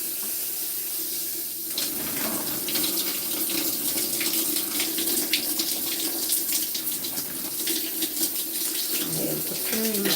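Water runs steadily from a tap into a sink or basin while water is prepared for a natural curly hair wash day, a constant splashing rush lasting throughout with no speech.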